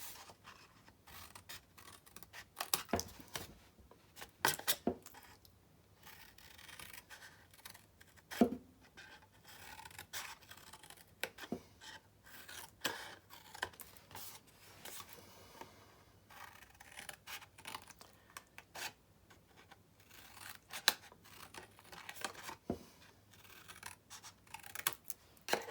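Paper for a small 3 x 3 inch lidded favor box is cut and notched, giving quiet scratchy snips and rasps in irregular bursts with soft handling noise between them, close and faint.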